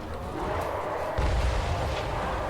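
Cannon artillery firing in the Total War Warhammer III siege battle at Serpent Pass, a rumbling low boom swelling midway over a continuous roar of battle noise, no voices.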